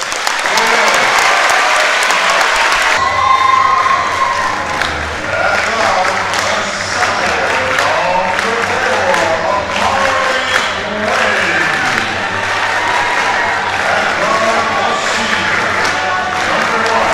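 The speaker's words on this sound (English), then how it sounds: "let's give one last round of applause" Loud, sustained applause from a large crowd with cheering and shouts, dense clapping filling the whole stretch.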